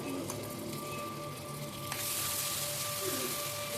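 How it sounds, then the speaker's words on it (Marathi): Tomatoes sautéing in a pan with chilli, salt and turmeric for dal palak, giving a steady close sizzle that turns brighter and louder partway through, continuous and without talking. "त्यानंतर यामध्ये मी टमाटे ॲड करत आहे"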